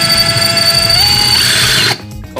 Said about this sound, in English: So I'm gonna drill this out a little bigger.